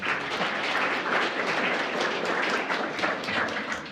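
An audience at a lecture claps steadily in a dense, continuous wash of applause at moderate volume, with no voices over it.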